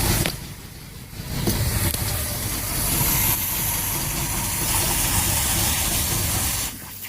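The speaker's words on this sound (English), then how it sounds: "I'm going to have to bring my RPMs down a little bit." A boat engine runs steadily with a dense, rumbling drone while its RPMs are brought down during winterizing, holding an even level before dropping off near the end.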